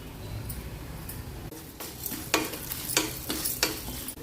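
Urad dal and curry leaves frying for a tempering in hot oil with cumin, a steady low sizzle broken by several sharp scraping stirs of a spoon against the pan, no talking.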